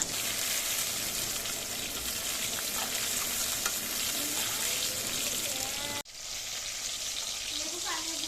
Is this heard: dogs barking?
no